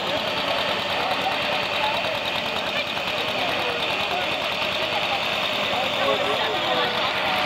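A farm tractor's engine drones steadily under load at a county fair tractor pull, a dense continuous roar with rapid knocking pulses and no breaks.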